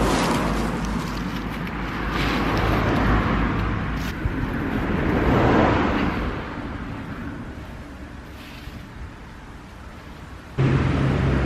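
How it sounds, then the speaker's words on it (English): Continuous roar of road traffic rushing past nearby, swelling and easing as vehicles go by. "the traffic's pretty bad today"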